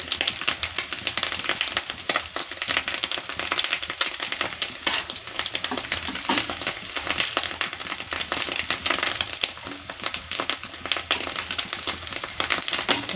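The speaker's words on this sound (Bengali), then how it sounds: "ডিম দেওয়া আছে না এর মধ্যে, তাই জন্য ফেনা ফেনা হচ্ছে তেলটা" Fish roe fritters fry in foaming oil, a loud, dense crackling sizzle that runs steadily throughout with no voices.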